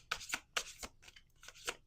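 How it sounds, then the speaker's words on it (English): Tarot cards shuffled by hand in several quick riffling bursts, close and quiet, with no talking. "Let me finish the shuffle because this is it."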